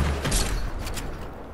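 Rapid booming grenade-launcher blasts in a multiplayer shooter, a quick burst of loud thumps and crackles in the first second, tailing off into a rumbling aftermath.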